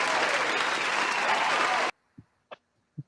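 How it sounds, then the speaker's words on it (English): Loud, dense applause from an audience fills the first two seconds and then cuts off abruptly, followed by a few brief faint sounds in near silence. "You get an applause for that, sir."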